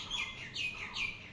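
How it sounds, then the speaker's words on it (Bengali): Small chirps from baby pigeons, a few descending high tweets close by, spaced in a quick irregular rhythm, with no voices. "ছোট ছোট বাচ্চা, এগুলো বাচ্চা পায়রা"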